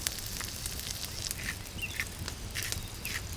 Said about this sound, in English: We add some butter to the hot pan, and we add the asparagus. We sear it until it's soft and tender.